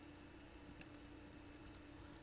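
Someone types on a computer keyboard. Faint, scattered key clicks come at an uneven pace over a low steady hum, with no talking.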